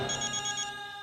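A telephone rings with a steady electronic ringtone, a repeating high chime over a sustained tone, heard alone and fairly close for about a second.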